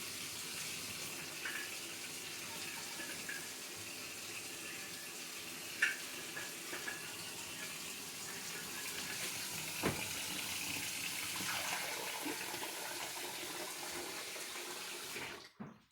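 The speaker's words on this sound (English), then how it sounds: "I just rinse it out." Tap water runs steadily into a kombucha jar as it is rinsed out, a continuous splashing rush for about fifteen seconds that stops abruptly at the end, close and fairly quiet, with no voices.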